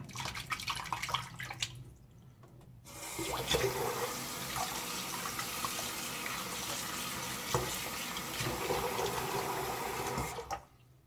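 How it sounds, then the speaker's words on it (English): Tap water runs steadily into a sink while a shaving soap container is rinsed out, with a soft splashing rush close by that pauses briefly and then continues for several seconds. "Just rinse the container out a bit."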